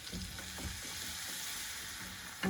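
Butter melting in a hot saucepan as the first step of a basic bechamel sauce, giving a steady, soft sizzle and faint crackle close by, with a brief louder clatter near the end.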